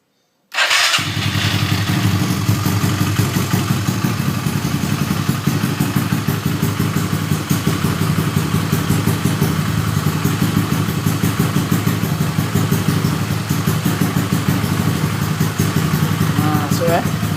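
A Yamaha Mio 200cc scooter fires up on the electric starter after a brief moment of silence, then settles into a steady, close, clattery idle with no throttle applied for the rest of the clip.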